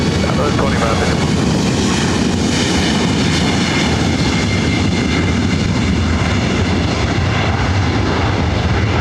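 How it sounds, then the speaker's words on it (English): A Southwest Airlines Boeing 737 MAX, flight 2551 to Honolulu, takes off at LAX with a loud, steady jet engine roar that fills the whole stretch, and a voice talks over it. "Southwest Airlines flight 2551 heading to Honolulu"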